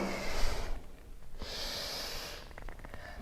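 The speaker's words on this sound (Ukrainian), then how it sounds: "прогин вдих. Округлитися видих." Yoga breathing during a cat-cow pose, a deep audible inhale followed by a long exhale through the nose, close and alone with no talking.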